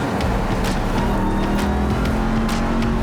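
A Dodge Ram TRX truck drives in a video game, its engine giving a loud, continuous drone with steady revving that fills the short stretch of sound.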